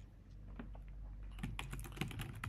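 Quick, light keystrokes on a computer keyboard, entering a line of Java code, patter at close range over a low steady hum, growing denser in the second half.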